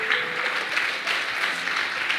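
A church congregation applauding: a dense, even patter of clapping hands that stays steady and moderately loud throughout, with no voices above it.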